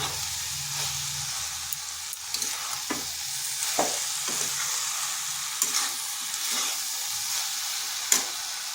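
Cabbage and soybean vegetarian curry is stirred in a hot pan, with a constant sizzle and repeated scraping knocks of the spoon against the metal, up close.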